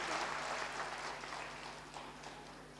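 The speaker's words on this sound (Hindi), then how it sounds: "जोरदार तालियों के साथ स्वागत करें पारी भाई जी का" A crowd at a fourth anniversary celebration applauds to welcome a guest: steady, even clapping that runs the whole time and eases slightly toward the end.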